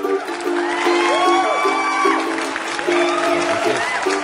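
Audience applause from a comedy show plays under a sustained musical tone and scattered voices, fairly steady and moderate in level through the short stretch.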